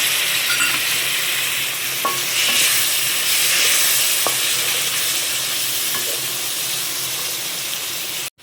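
Chopped tomatoes frying in a pan for spinach palya, giving a steady, close, loud sizzle throughout with a few faint clicks of stirring.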